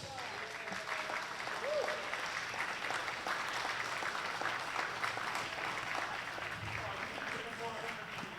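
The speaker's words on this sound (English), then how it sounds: "give my brother David Gordon a big round of applause" A crowd at an evening community event applauds steadily for several seconds, a dense, fairly distant wash of clapping with no voices standing out.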